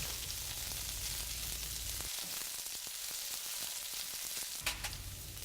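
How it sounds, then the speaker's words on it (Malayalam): White spring onions, ginger and garlic sauté in a hot pan, giving a steady, close sizzle with a break in the middle filled by light stirring scrapes and clicks, and no one speaking. "ഇതിലോട്ട് കട്ട് ചെയ്ത് വെച്ചിരിക്കുന്ന വൈറ്റ് സ്പ്രിംഗ് അണിയൻസ്, ഇഞ്ചി, വെളുത്തുള്ളി എന്നിവയിട്ട് വഴറ്റുക"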